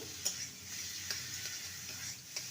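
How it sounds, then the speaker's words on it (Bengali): Cauliflower paste for a mashed cauliflower bhorta being stirred continuously in a pan over medium heat, a quiet soft sizzle with a few faint scraping clicks from the spoon. "একটু মিডিয়ামে রেখে ফুলকপির পেস্টটাকে অনবরত নেড়ে যেতে হবে"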